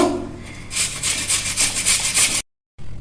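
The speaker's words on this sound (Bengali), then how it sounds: "এইভাবে আমি এই 2টো আলুকেই ঘষে ঘষে গ্রেট করে নেব।" Potatoes rubbed against a hand grater, a run of close, rhythmic scraping strokes that stop abruptly near the end, then a faint background hum returns.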